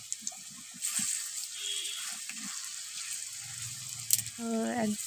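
Chilli and onion, mixed with panch phoron, salt and turmeric, go into hot oil. A soft sizzle and bubbling rise amid scattered kitchen knocks, and a voice speaks near the end.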